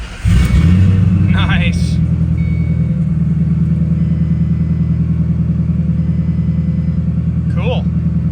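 A custom Saleen Mustang engine fires up loudly on its first start, then settles into a steady, deep idle rumble that holds close and strong throughout, with a brief spoken remark over it.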